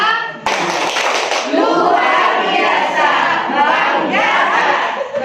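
After a brief quiet opening, an audience at a teachers' coaching workshop bursts into loud, sustained clapping mixed with cheering voices that continues to the end.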